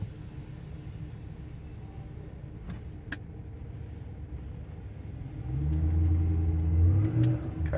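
A Mercury Marauder's V8 engine rumbles steadily while driving, then swells louder as it revs and accelerates near the end.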